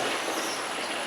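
An oiled glove rubs against a spinning motor-driven shaft, giving a steady, loud hissing friction with a grinding, squealing edge that runs continuously with no talk.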